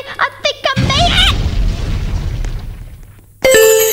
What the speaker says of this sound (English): Why did I explode?